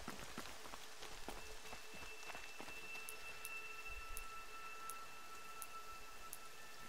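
Rain falls in the video game Horizon Zero Dawn as a soft, continuous patter of drops with occasional sharper plinks, steady and fairly faint, with no voices.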